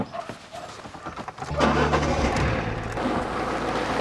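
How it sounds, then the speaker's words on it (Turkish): A car engine is started inside the vehicle, a short crank catching into a steady idle rumble that continues, heard from within the cabin after some faint rustling. "Şimdi ben arabayı çalıştıracağım."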